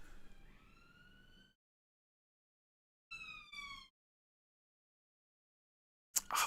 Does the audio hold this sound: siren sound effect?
yes